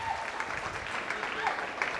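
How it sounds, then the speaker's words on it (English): An audience at a fashion show claps steadily and fairly loudly, a dense continuous patter of applause filling the whole stretch with a few brief tonal sounds within it. "Let's give a round of applause for the singers of Divine."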